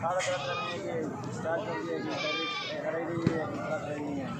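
Pregnant sheep bleat at a village livestock market, with repeated bleats rising over constant chatter and nearby talking.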